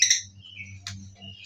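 Lovebirds in a breeding cage give a few sharp, high chirps close by, with short pauses between calls over a faint low hum.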